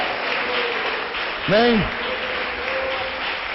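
A church congregation applauds during a service, a continuous bed of crowd clapping, with a voice briefly speaking over it midway.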